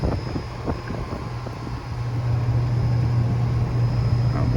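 A malfunctioning Fujitsu HVAC unit with its compressor disconnected gives off a steady mechanical drone under a thin high whine, the hum swelling a little louder partway through and holding.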